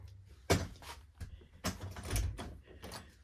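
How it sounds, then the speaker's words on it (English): A house door closes and is locked: a firm thud, then scraping and clicking latch sounds with several knocks and rattles of handling, close and fairly loud. "let me lock the door."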